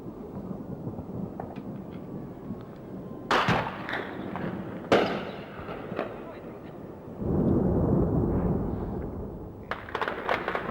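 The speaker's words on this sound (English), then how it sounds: "Siguen las explosiones en el aeropuerto que podrían ser originadas, además de las bombas, por los combustibles que explotan." Bomb and fuel explosions at an airport during a Falklands air raid: several sharp, loud blasts strike in turn over a continuous rumbling background, with a heavier, sustained roar building near the end.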